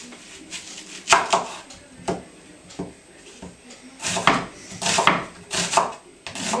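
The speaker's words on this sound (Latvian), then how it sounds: "Griezīsim sīpols." A kitchen knife chops an onion on a cutting board, giving uneven, crisp thuds and taps in short bursts near the microphone.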